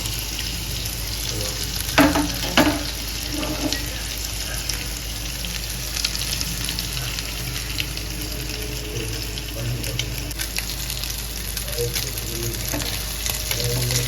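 Seer fish (vanjaram) pieces frying over a slow flame on a tawa for a fish fry, with a continuous loud, close sizzle and crackle, a few sharper pops and utensil scrapes near the start, and no talking.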